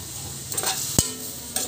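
Chicken pastil stirred in a frying pan, with a steady low sizzle broken by a few scraping strokes and one sharp spoon knock against the pan, close and with no speech.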